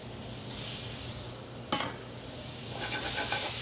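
Shrimp going into a hot paella pan, a steady close sizzle with a brief clatter of a utensil against the pan partway through and fuller frying hiss toward the end.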